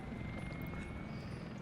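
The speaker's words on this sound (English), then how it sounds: "that helicopter has 5000 kilowatts engine" A helicopter's engine and rotor drone steadily and faintly in the city-building game Workers & Resources: Soviet Republic, a continuous even whir with no breaks and no voices.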